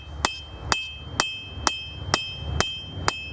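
Seven evenly spaced hammer blows ring out on hot knife steel during forging, each sharp metallic strike followed by a faint lingering ring.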